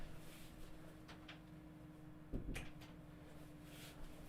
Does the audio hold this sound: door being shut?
yes